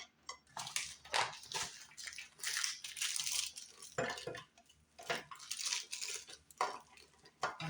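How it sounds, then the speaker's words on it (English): Hard candy clatters into a gift container in uneven bursts of rattling and crunching, close and fairly quiet, with short pauses between pours. "And then just load it up with candy."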